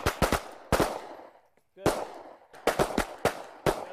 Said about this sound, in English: I joined Braxton and his family on the shooting range, putting the training into practice with live ammunition.